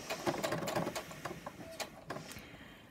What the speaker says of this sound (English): And now you can carry on sewing.